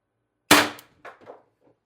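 An Umarex TR50 HPA airgun charged to 1100 psi fires a 12.7mm ball bearing into plywood, one sharp crack followed by a short thud and faint clatter.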